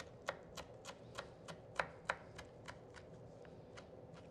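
A knife chopping parsley finely on a cutting board for a Turkish chicken kavurma dish, giving a steady run of quick, crisp taps at an even rhythm, fairly close and moderately loud, with no talking.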